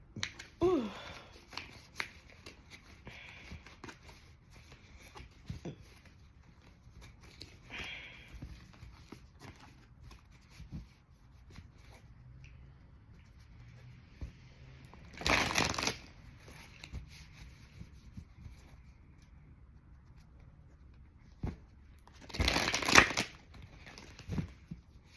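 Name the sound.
shuffling a deck of cards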